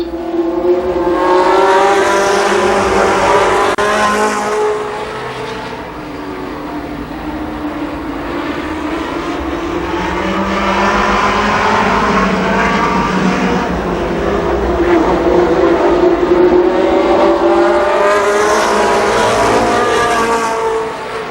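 Stock cars racing at Columbus Motor Speedway in 1993, engines loudly roaring past in waves, the revving pitch rising and falling as the pack sweeps by, fading midway and then building again.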